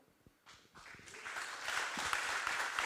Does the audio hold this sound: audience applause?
yes